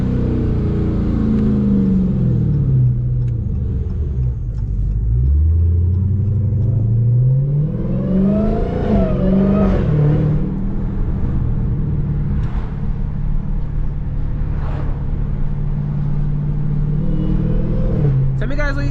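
An SRT Hellcat Dodge Charger drives at night, its engine rumbling loud and close from the cabin, revving up and down through several rising and falling sweeps, with people talking over parts of it.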